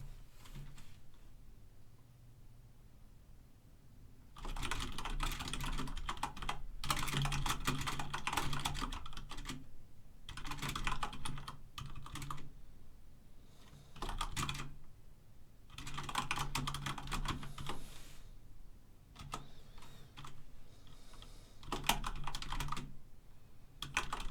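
Rapid typing on a computer keyboard, close and clear, in several long bursts of dense key clatter separated by short pauses.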